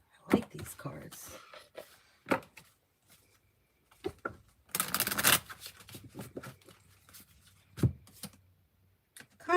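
Purple tarot cards being shuffled, a soft riffling and flicking that comes in bursts, with one louder rushing shuffle in the middle, as a voice talks quietly over it.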